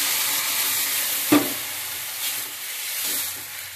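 Water poured into a pan of frying spiced catfish curry with turmeric, chilli, salt, potato and papaya sets off a sharp short burst of hissing sizzle, then a softer steady bubbling hiss continues, with no speech.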